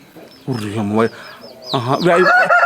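A fighting rooster raised for Sankranti cockfights gives two bursts of loud, close clucking calls, the first short and the second longer, with a brief quiet gap between them.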